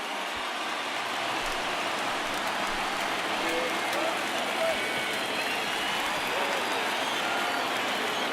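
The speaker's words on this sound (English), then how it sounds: "listen to this crowd now. They are really into this." A virtual baseball stadium crowd in MLB The Show 19 roars steadily during a late rally, a dense continuous wash of cheering that holds loud throughout.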